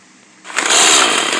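A chainsaw weapon in the Roblox game Rivals revs up after a quiet start, its loud, buzzing drone holding steady to the end.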